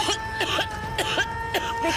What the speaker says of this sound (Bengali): কাশি হচ্ছে কেন?